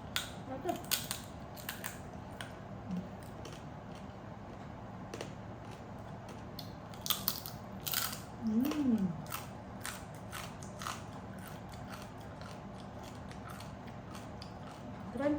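Crunchy roast lechon skin being cut, giving a run of sharp, dry crackles and snips at close range over a low steady background, with a brief murmur of a voice at one point.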